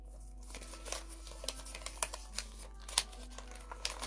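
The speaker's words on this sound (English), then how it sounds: "So I'm just folding the paper and placing it inside the jar to bring success into my life" Paper is folded by hand for a spell jar, giving quiet close crinkles and crisp creases in irregular bursts over a faint low hum, with no talking.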